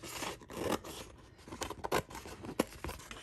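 Blades snip and scrape through stencil vinyl while cutting around a design, a series of short, close, crisp cuts and rustles in an irregular rhythm.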